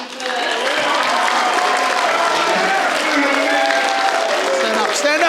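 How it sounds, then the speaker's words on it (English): A conference audience at a VET summit talk gives a loud, sustained round of applause for Rami, thick clapping mixed with cheers and voices throughout. "A big round of applause for Rami first."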